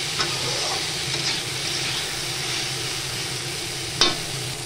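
Potatoes sizzle in a frying pan seasoned with salt and turmeric, a steady close hiss of hot oil, with a sharp utensil scrape or stir near the end and no talking.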